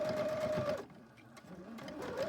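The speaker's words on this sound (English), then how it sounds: "Okay, so I'm just going to sew" A sewing machine stitches fabric pieces for a snippet roll, making a close, quiet mechanical whir that stops for about a second in the middle and then starts again.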